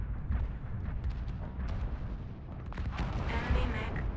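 A destroyed enemy mech explodes in a video game, a muffled booming blast with rumbling bursts and crackle, fairly faint, lasting a few seconds.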